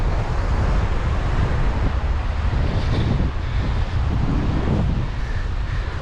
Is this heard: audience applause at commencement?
no